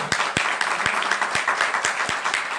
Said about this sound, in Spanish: Aplaudir al papá.